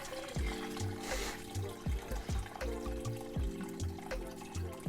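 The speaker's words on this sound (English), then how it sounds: "now we take a mesh strainer. Again, we're still in the sink to make it a little bit less messy. So we're gonna pour it in there." Bone broth pours through a mesh strainer into a sink, a steady run of splashing liquid with repeated sloshing surges, heard up close and continuous throughout.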